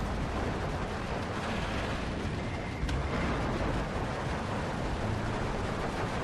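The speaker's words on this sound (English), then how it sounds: "Launch that grenade." A grenade is launched and bursts in the World War II strategy game Steel Division 2, a short sharp blast sitting inside a steady roar of rumbling battle noise and distant gunfire throughout.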